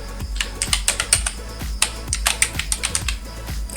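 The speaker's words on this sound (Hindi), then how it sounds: "यहाँ पे हम अपना आईडी डालते हैं, टाइप कर लेते हैं" Keys on a computer keyboard clatter as a password is typed for an online SSC GD constable form, a quick, uneven run of close, crisp clicks with short pauses, no voices over it.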